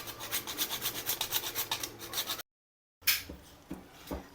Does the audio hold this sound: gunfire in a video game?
no